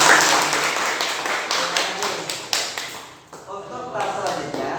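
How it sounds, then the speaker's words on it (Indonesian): Classmates in a classroom clap together for the other groups after a round of a group game, a dense burst of applause that thins out toward the end, with voices talking over it. "Tepuk tangan untuk kelompok lain."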